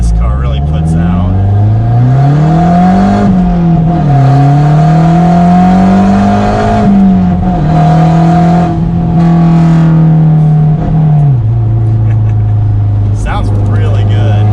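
A Mazda Speed3 accelerates hard at full throttle, its engine note climbing steadily through the gears with brief dips at each shift, loud and close from inside the cabin.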